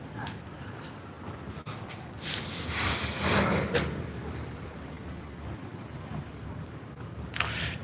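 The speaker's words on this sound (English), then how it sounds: "check out the sea, guys" Sea and wind by the harbour in Split, Croatia: a steady rumbling wash of wind and water, swelling louder in the middle before easing back, with a soft gusty hiss over the microphone.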